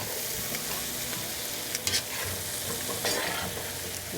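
Vegetables fry hard in oil and pot roast drippings in a hot pan, a steady loud sizzle with a few sharper spatters and stirring scrapes, and no voices.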